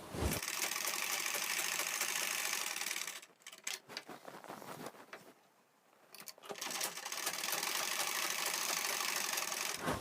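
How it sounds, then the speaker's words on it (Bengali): Sewing machine stitching the shoulder seam of a kameez with a half-inch gap, a rapid loud mechanical chatter that stops briefly for a few seconds mid-way, then resumes steadily. "এখানে হাফ ইঞ্চির গ্যাপ দিয়ে কিন্তু পুড লাইনটা সেলাই করে নেবো"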